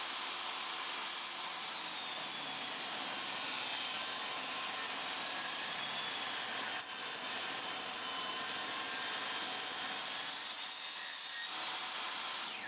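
Table saw ripping a pallet hardwood board with the blade raised just over half the wood's height: a continuous loud rasping cut with no gaps for the whole stretch, slightly dipping midway.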